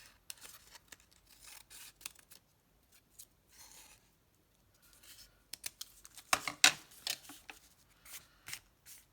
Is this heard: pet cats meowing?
no